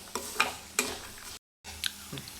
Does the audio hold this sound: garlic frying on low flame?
yes